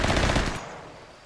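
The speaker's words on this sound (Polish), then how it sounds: "strzał w głowę dostałeś tutaj niestety." Burst of rapid automatic gunfire in the RimWorld video game, loud and close, a dense rattle that cuts off after about half a second and leaves a fading echo, with no talking.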